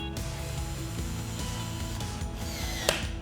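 Ratchet wrench clicking steadily as coupling bolts on a McWane Husky CR 7000 HD coupling are tightened to 80 inch-pounds, a close, continuous run of rapid mechanical clicks with no talk.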